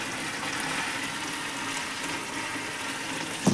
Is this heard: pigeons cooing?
no